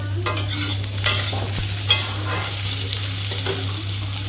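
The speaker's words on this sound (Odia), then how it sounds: "ଆଳୁଟା ବ୍ରାଉନ୍ ପଡ଼ିବା ପର୍ଯ୍ୟନ୍ତ କଣ୍ଟିନ୍ୟୁ ଭାଜିବା।" Potatoes with the skins left on fry in a pan over a medium flame, a steady sizzle under occasional stirring scrapes, close, with a low electrical hum beneath and no speech.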